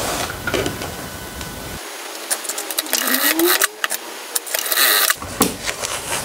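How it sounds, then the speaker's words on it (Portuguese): A sewing machine stitches fabric lining with a backstitch, bursts of rapid mechanical whirring and clatter that stop and restart, loud and close, with a brief pause in the middle. "eu vou costurar até aqui, dar retrocesso, daqui retrocesso até aqui"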